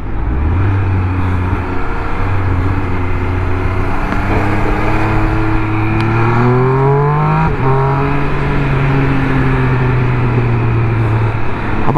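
Triumph Speed Triple 1200 motorcycle with its stock exhaust, engine held at a steady loud drone, then revving and climbing in pitch with a quick shift around the middle before settling back to a steady tone, close and continuous.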